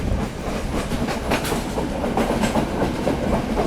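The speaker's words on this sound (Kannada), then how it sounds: "ಮತ್ತು ಈ ಟ್ರೈನ್ ಏನು ಕಮ್ಮಿ ಸ್ಪೀಡ್ ಹೋಗಲ್ಲ" A fast passenger train runs along Sri Lanka's coastal railway, its carriages rumbling loudly with a steady clickety-clack of wheels on the rails, heard close from on board with no talk.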